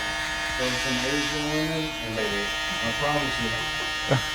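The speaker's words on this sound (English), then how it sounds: "we can go ahead and use the shaver. This is just gonna add another level of shade" An electric shaver buzzes steadily while shading a burst fade haircut on straight hair, a close, continuous hum running under a barber's talking.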